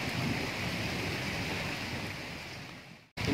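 Heavy, steady rain pours outdoors in Hajipur as a dense, continuous wash of noise that cuts out abruptly just before the end.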